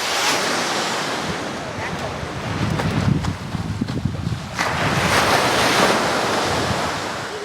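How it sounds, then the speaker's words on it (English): Rough, choppy sea waves surge and wash continuously at a skimboarding beach while strong wind buffets the microphone, a loud, steady roar throughout. "now it's choppy and windy."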